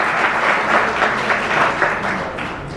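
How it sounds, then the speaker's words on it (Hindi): Sustained applause from an audience at a gathering at a Gayatri Shaktipeeth in Saharsa, a dense steady clatter of many hands clapping throughout. "ताली बजाओ भाई"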